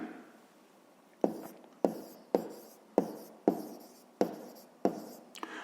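Pen or chalk writing during a fifth-grade maths lesson: a run of short, sharp scratchy strokes, each starting with a tap and fading, repeating at roughly half-second intervals, close and alone.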